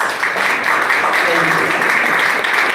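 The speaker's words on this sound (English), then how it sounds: "Let's give them a round of applause." A dense wash of audience applause at a county budget town hall meeting, steady and fairly loud across the short stretch with no clear individual claps standing out.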